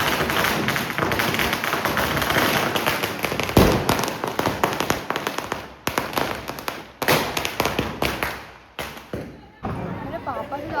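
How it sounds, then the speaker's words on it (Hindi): Firecrackers burst outdoors during Diwali celebrations, a dense volley of sharp bangs and thuds, some close and loud, others trailing off, with voices talking amid the crackling. "मैं बाहर सब पटाखे फोड़ रहे हैं"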